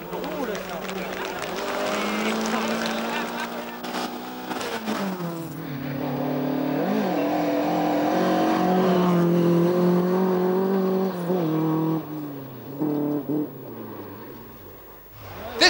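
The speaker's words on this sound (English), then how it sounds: "This Mark I Escort, decked out in the same colour scheme as Hannu Mikkela's old car, follows the same route" A Ford Escort Mark I rally car in Hannu Mikkola-style colours drives a rally stage, its engine revving and shifting at length under a narrator's voice, with a final sharp burst at the end.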